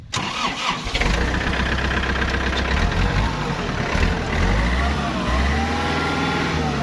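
A used car's engine cranks and catches on the first try, then settles into a loud, close, steady idle that carries on to the end without talk.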